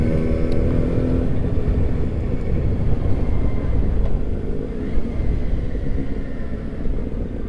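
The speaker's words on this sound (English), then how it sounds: "now I'm test riding a Yamaha" A 2010 Yamaha FZ1N motorcycle on a test ride drones with a steady, loud low engine rumble mixed with wind, holding fairly even throughout.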